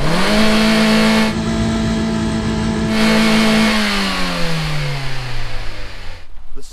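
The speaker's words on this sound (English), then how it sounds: "never push it to the rev limiter" Kia car engine revved hard to the rev limiter, a loud sustained high-pitched drone that holds, bounces at the limiter, then drops away as revs fall, ending with a brief cutoff.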